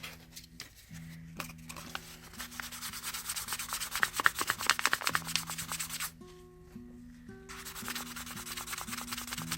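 Faux turquoise is wet sanded with 800 grit sandpaper, giving close, soft rhythmic rubbing and scratching strokes that vary in intensity, with a short pause before the strokes resume, over a faint background tone.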